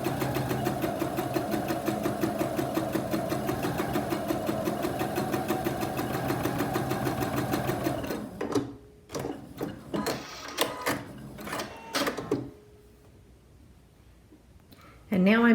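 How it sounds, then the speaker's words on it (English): A sewing machine runs continuously and close for about eight seconds, stitching around the outer edge of a fabric mask with a quarter-inch seam allowance, then stops, leaving scattered handling clicks and rustles. "if we're going to stitch this, we're going to sew right around that outer edge."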